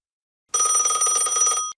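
A telephone rings in one loud, rapid electronic trill lasting just over a second, isolated in silence before and after.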